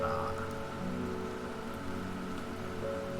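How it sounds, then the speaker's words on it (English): Rain falling outside a greenhouse in the video game Strange Horticulture, a soft, continuous patter on glass and surfaces with a faint ambient tone beneath, steady and fairly quiet. "it looks like we're in a greenhouse and it's raining outside"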